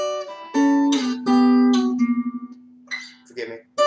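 An electric guitar plays the riff from a song, with a whammy effect. Clear harmonic notes come in phrases, and a sustained low note wavers and fades before a few final plucked notes.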